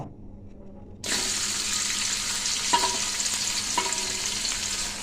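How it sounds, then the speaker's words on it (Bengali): Onions hit hot oil and burst into a loud, steady sizzle after a second of quiet, with a couple of brief stirring clinks from a spoon against the pan as they fry for a dried oyster mushroom dish. "তেলটা দিয়ে একটু মেখে নিব এখন পেঁয়াজ কষি দিয়ে দিব"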